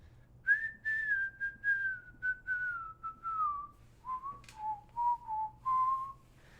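A lone whistler carries the melody of a song in a living room, clear sustained notes gliding through a long phrase, then a short pause and a second phrase of separate notes, with no talking.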